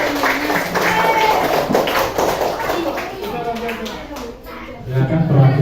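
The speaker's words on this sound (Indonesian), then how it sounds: "Beri tepuk tangan untuk kelompok 1." A primary school class claps for group 1 in a sixth-grade classroom, a steady spell of hand clapping mixed with children's chatter and an adult voice, fairly close and loud.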